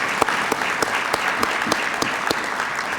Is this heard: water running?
no